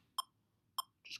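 An electronic metronome gives two sharp, evenly spaced high beeps about 0.6 seconds apart, faint and isolated in a quiet room, with a brief hissy blip after them.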